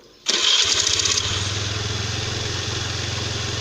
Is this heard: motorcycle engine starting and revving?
yes